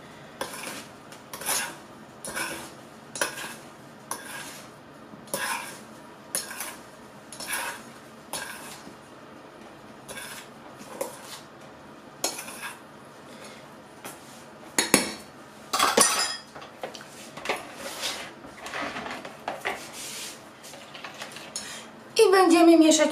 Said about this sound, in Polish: teraz to wszystko wymieszamy i zaraz będziemy mieszać